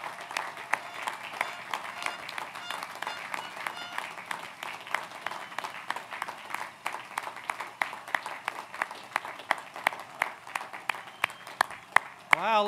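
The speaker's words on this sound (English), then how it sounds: "a spontaneous standing ovation for our students" Graduation commencement crowd gives graduating students a standing ovation, with sustained, dense clapping from many hands rising in intensity, with voices faintly mixed in.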